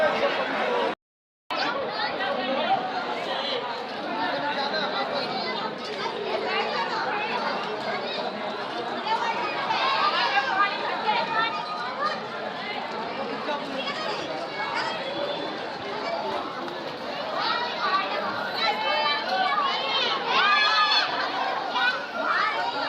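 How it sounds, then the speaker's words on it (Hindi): A large, dense crowd of pilgrims chattering at Khatu Shyam near Shyam Kund: a continuous hubbub of many overlapping voices, children among them, close and loud throughout, broken only by a brief dropout near the start. "आज भीड़ गजब की है। आप देख सकते हो कितना ज़्यादा ओवर क्राउडेड है पूरा पाउंड।"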